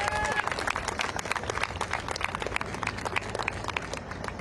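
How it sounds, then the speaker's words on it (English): A crowd of student protesters on a Washington campus claps for a speaker, a brisk, uneven burst of applause with scattered cheering voices mixed in. "So a round of applause for this speaker."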